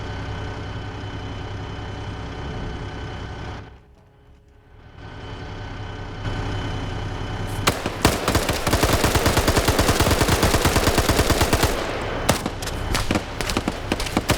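Loud military video game combat: a steady engine drone dips briefly, then sustained rapid machine-gun fire breaks out in fast repeated bursts over the rumbling vehicle noise before easing off near the end.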